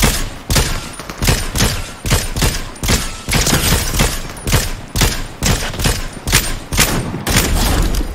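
Dense rapid gunfire from players fighting in the Fortnite battle royale, loud repeated shots in quick bursts with brief gaps, close and continuous throughout.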